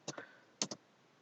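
A few quiet keyboard clicks, two pairs of quick taps separated by a short pause, close and otherwise silent.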